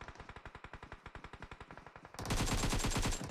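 An AK rifle in a battle-royale shooting game fires a steady rapid stream of shots, then a louder, denser burst of gunfire takes over near the end.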